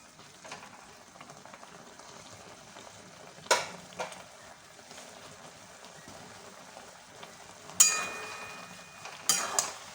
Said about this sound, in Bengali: নাড়াচাড়া করে নিই